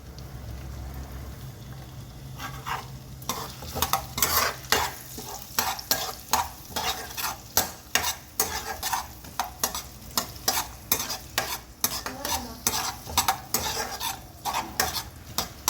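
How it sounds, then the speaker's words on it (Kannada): Onions fry with masala for paneer toofani and are stirred vigorously, a rhythmic run of spoon scrapes against the pan over a constant sizzle. The strokes come close and loud, with no voices. "ಈರುಳ್ಳಿನೂ ಒಂದು ಸ್ವಲ್ಪ ಬ್ರೌನ್ ಕಲರ್ ಆಗೋವರೆಗೂ ಹುರಿ ಇದನ್ನು ಮಾಡ್ಕೋಬೇಕು"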